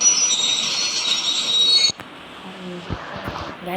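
A train in the Indian Bike Driving 3D game, with a loud, steady high wheel squeal on the rails that cuts off abruptly, followed by quieter rumbling and clattering.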